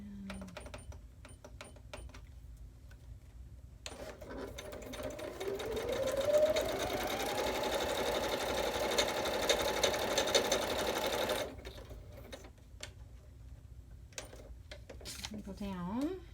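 Home sewing machine running a zigzag stitch for a craft project, one steady continuous run of about seven seconds with a rising whir, framed by quieter handling noises before and after.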